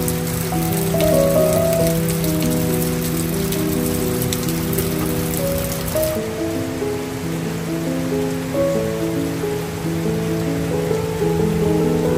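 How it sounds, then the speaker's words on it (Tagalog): Heavy rain pours down in a steady, dense hiss, partly under a looping tonal melody that drops out midway while the downpour continues. "ang lakas ng ulan"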